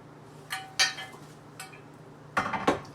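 Secondhand metal pots and pans from a bargain box clink and clatter as they are handled, with several sharp separate bursts of clanging and a louder double rattle near the end, and no talking.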